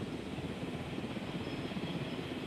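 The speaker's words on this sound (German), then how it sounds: "Na, Helikopter, kriegst du das denn hin oder was?" A helicopter in the video game Jurassic World Evolution gives a steady, continuous rotor and engine drone with a faint rhythmic throb, even in loudness throughout.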